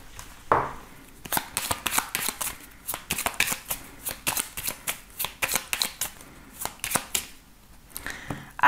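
A 32-card playing deck is shuffled at close range, with fast riffling flutters and sharp repeated snaps in quick rhythmic bursts, loud and crisp with no talking.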